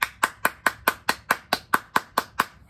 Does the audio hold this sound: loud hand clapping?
yes